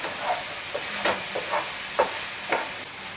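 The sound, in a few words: sautéing masala in a pan for vada pav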